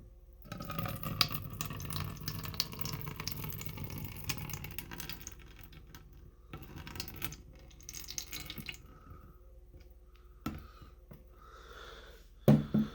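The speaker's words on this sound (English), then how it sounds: "Just gonna dump this water through because this water is gonna sit in there anyways." Water poured from a container down into a sink during a homemade hydroponics bucket setup, a splashing, trickling gush that runs for several seconds, tapers to drips, then ends with a couple of sharp knocks near the close.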